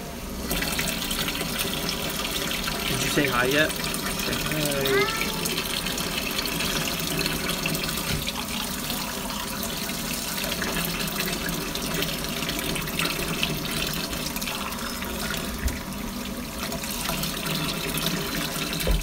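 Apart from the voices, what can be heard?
water running from a tap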